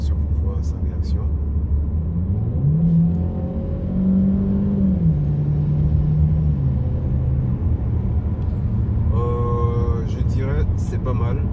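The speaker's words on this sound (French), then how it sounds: "On se fait une petite accélération pour voir sa réaction." A 2017 Ford Escape (Kuga) accelerates from the cabin, its engine note rising steadily through a gear before settling into a low road rumble, with someone talking over it.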